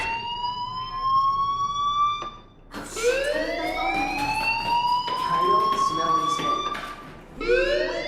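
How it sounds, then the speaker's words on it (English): Fire alarm ringing in the video game Life is Strange: a loud electronic tone that repeatedly rises in pitch, sounding in several long sweeps with short breaks between them. "do you hear that fire alarm?"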